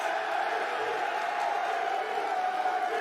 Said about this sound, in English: Can we get some chants for Marky B?